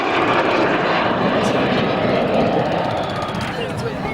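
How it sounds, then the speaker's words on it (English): Loud, steady engine roar of a small military aircraft flying nose-up at an air show fills the whole stretch, a constant droning whine with no break. "You can hear the engines working away."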